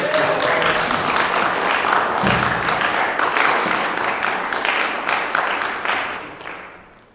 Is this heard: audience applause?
yes